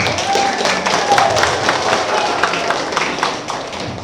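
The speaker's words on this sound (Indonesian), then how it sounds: "Tepuk tangan dulu untuk kita semua." Audience at a village head election campaign event claps in a dense, steady wash of applause with crowd murmur, continuous throughout.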